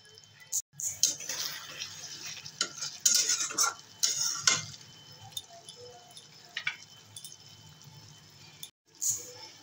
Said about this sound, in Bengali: দেবো অর্ধেক টমেটো কুচি। ভালো করে কষিয়ে নেব।